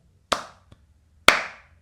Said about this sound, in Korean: 박수를 약하게 치더라도